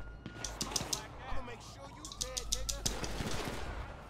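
Gunshots ring out in GTA 5 during a zombie and falling-meteor mayhem scene, several sharp cracks in two clustered volleys amid game noise while a person talks over them.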